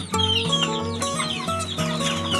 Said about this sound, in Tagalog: Tingnan nyo naman mga kamanok.